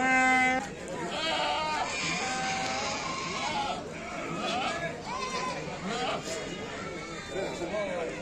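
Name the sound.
goats bleating at livestock market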